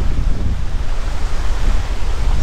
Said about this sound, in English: Got the water washing up against it.